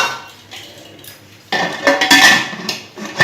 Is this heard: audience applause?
no